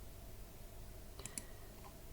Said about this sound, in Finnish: ja sitten klikataan OK